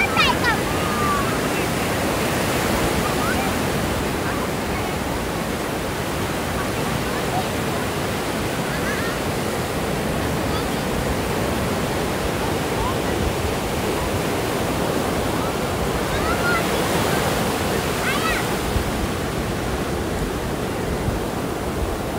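Sea waves break on Hejamady (Kodi) Beach in a steady, loud, continuous roar of surf that fills the whole stretch without pause.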